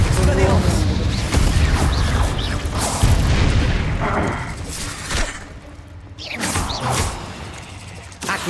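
Spell blasts and booming impacts from the Confringo explosive spell in Hogwarts Legacy, dense and continuous with whooshes and crashes layered over game noise, with a voice speaking through it.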